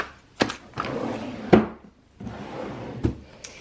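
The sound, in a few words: drawer opening or closing in an art studio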